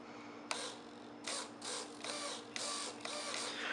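Small servo driving the elevator on a 3D foam RC plane, a series of close whirring, buzzing bursts starting and stopping in quick succession over a steady electrical hum.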